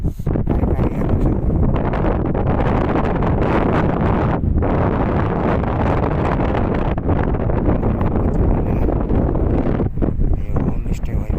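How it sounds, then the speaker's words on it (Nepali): Strong wind roars across a mountain ridge near Sandakphu on the India–Nepal border, buffeting the microphone in a loud, continuous rumble with brief gusty dips throughout. "हावाले फुकेर कस्तो साह्रो"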